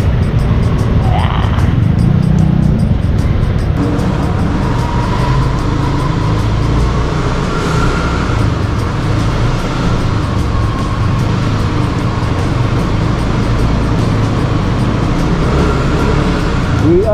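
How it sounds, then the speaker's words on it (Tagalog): Steady road traffic with cars and buses rumbling past, a loud continuous roar of engines and tires close by, with a faint voice now and then underneath. "We are here again in the traffic."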